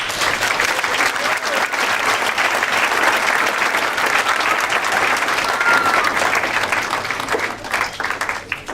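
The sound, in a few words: audience applause for Marcia Pomeroy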